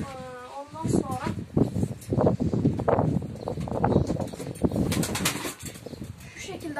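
Tumbler pigeons in a balcony coop flutter and shuffle close by, with wing flaps and soft cooing mixed under someone talking almost continuously.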